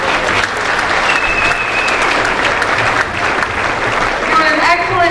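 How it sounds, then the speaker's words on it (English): A crowd at an elementary school Black History Month event gives loud, sustained applause, with voices and cheers mixed into the steady clapping throughout. "give them another round of applause."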